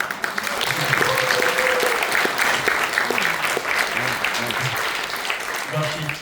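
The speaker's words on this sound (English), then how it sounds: "a huge round of applause to this young man there" Loud, sustained applause from an audience at an event in Geneva, Switzerland, with a voice speaking over the clapping.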